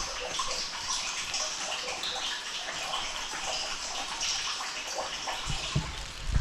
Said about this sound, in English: That is the sound of no electricity water pumping.